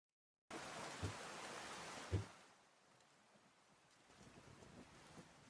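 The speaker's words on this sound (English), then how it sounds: "I like playing rain when I'm doing stuff, trying to focus, because it helps me zone out." Steady rain hiss fades down after a couple of seconds, with two soft thuds early on and a low, quiet wash continuing.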